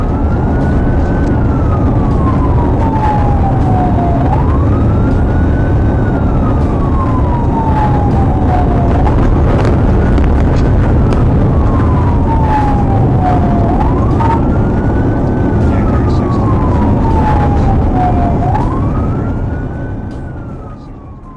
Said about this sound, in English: Despite emergency lights and sirens